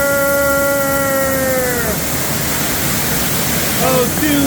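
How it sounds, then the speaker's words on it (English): A waterfall at the San Diego Zoo rushes as a steady broadband roar throughout, while a voice speaks over it at the start and again near the end. "here at the zoo, we got the waterfall"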